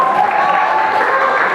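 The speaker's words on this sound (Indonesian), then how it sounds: "saya mohon tepuk tangan untuk kelima calon BPM kita" Applause from a crowd at a student body election, steady and dense, filling the whole moment with a constant wash of clapping.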